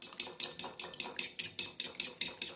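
A spoon beats egg and cheese omelette ingredients in a bowl, producing about eleven quick, evenly spaced metallic clinks in a brisk rhythm, close and clear with no talking.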